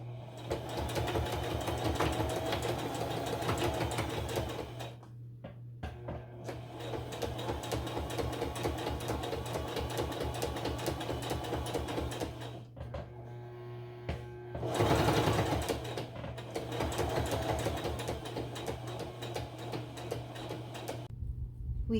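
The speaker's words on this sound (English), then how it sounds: "We finished sewing on the satin binding onto the fabric" A sewing machine stitches satin binding onto blanket fabric in long, fast, rhythmic runs, stopping briefly several times before resuming, loud and close with no talking.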